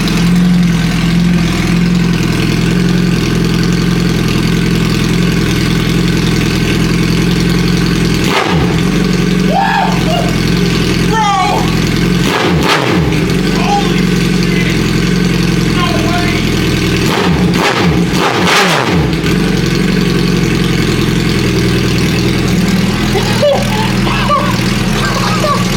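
Suzuki Hayabusa motorcycle with its muffler removed, engine idling loud and steady with a deep low rumble throughout, a few sharp blips mixed in and people talking over it.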